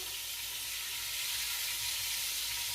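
A deer neck roast fries in grapeseed oil, a continuous close hissing sizzle that stays even and fairly soft throughout, with no voices.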